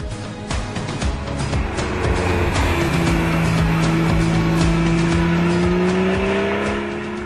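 Porsche with a 3.4-liter engine and dual-clutch transmission driving hard, its engine note climbing steadily through a long pull with sustained loud roar and some tire noise, no talk.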